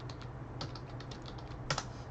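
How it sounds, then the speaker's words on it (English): Fingers type on a computer keyboard in quick soft clicks, faint and close, over a steady low hum with no talking. "So I'm typing in Swamp Walk there"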